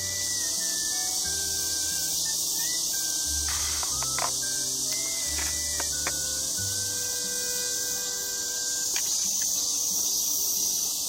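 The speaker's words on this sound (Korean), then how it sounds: "매미 소리랑 시끄럽고" A steady, high-pitched insect drone fills the air without pause, like cicadas buzzing outdoors, with a few faint clicks and low thumps underneath.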